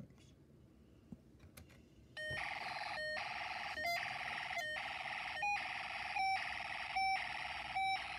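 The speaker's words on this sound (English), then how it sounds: "the speaker alternates between two musical tones like someone's flipping the switch" A Snap Circuits electronic kit speaker sounds a steady, alternating pair of musical tones, switching back and forth in a regular periodic pattern after a faint click or two at the start; no voices.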